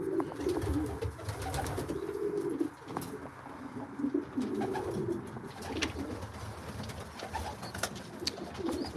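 Racing pigeons coo in a loft, low rolling calls repeating steadily at close range over a constant rustle and background noise.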